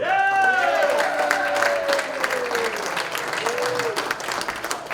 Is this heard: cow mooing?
no